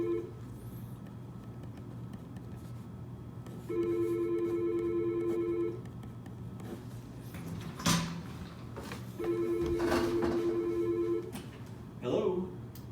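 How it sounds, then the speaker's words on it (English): A phone rings in a quiet room, two long electronic ringing bursts of about two seconds each separated by a pause, with light handling noises and knocks in between. "My phone is ringing."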